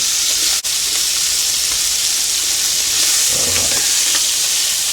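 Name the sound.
shrimp and chicken stir fry sizzling in pan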